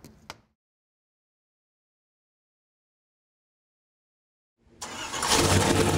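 A rebuilt Ford 5.0L small block V8 on an engine dyno is silent for several seconds after a faint click, then cranks and fires. It settles into a loud, steady, lumpy rumble close by.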